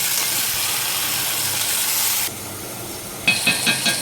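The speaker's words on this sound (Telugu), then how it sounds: "ఇప్పుడు దీంట్లో వంకాయలు వేసుకోవాలండి. కలుపుకోవాలి." Brinjal pieces hiss and sizzle in a frying pan, loud and steady at first, then quieter after a pause, with a few soft stirring scrapes at the end.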